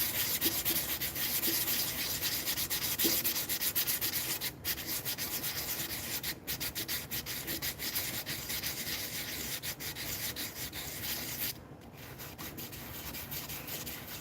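Wood is sanded by hand in circular strokes, giving a continuous close, even rubbing scrape with no talk.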